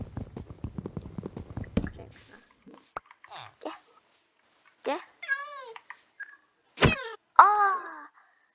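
Cat meows from Minecraft come in several short separate calls after a stretch of clicking and tapping, with brief gaps between them and a longer wailing meow near the end.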